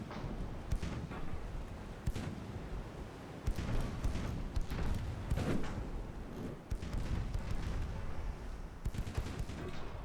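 Heavy naval gunfire from a 1910s British warship in a video game naval campaign, dense repeated booms and thuds rolling continuously over a loud rumbling background, with sharper shots standing out near the start and end.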